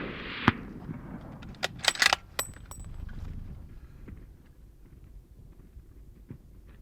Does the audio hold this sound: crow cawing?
no